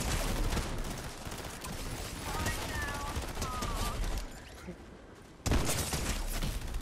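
Fortnite gunfire crackles in dense, continuous bursts through most of the stretch, loud and close, with a brief lull before a sharp burst resumes near the end; players talk over the action.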